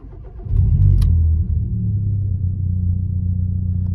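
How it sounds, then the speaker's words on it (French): Inside a car cabin fitted with a stainless steel silencer, the engine cranks briefly and catches, swelling into a loud low rumble before settling to a steady idle drone. "maintenant on va tester le démarrage, mais à l'intérieur, histoire de voir comment ça rend de l'habitacle."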